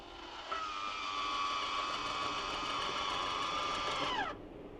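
A MaxxFan roof vent fan starts up with a sudden whirring hum, holds a steady tonal drone for several seconds, then winds down with a falling pitch as it switches off.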